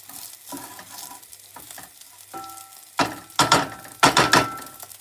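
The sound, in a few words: onions frying in a pan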